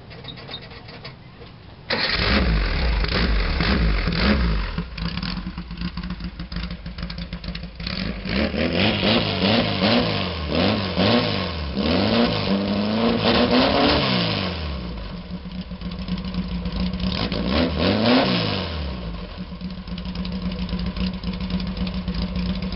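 A Volkswagen engine fitted with a new exhaust that has no baffle cranks and fires after a moment of quiet, then idles loudly and is revved repeatedly in rising and falling sweeps, close and raw throughout.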